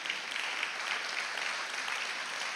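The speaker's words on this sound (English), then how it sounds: "yes, it's good to clap." A church congregation applauds during a sermon, a dense, even wash of clapping that holds steady at a moderate level for a couple of seconds.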